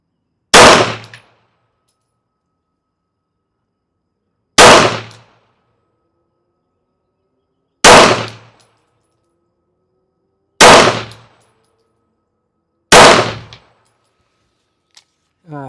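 A pistol with a red dot sight, loaded with Turkish ammunition, fires five sharp, loud shots at 25 yards, spaced a few seconds apart with silence between them.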